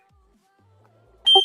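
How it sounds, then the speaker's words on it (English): A smoke alarm gives a short, loud electronic beep that bursts out suddenly at the end after near silence. "Oh, smoke alarm!"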